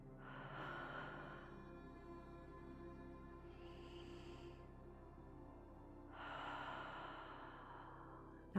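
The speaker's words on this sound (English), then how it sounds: "Let's take 3 deep breaths here." Three slow, deep breaths taken during a yoga flow, each a long soft exhale with breathy hiss, close and quiet, separated by pauses of near silence.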